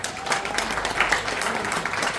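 An audience at a training seminar applauds steadily, a dense, even wash of many hands clapping at moderate volume throughout with no pauses.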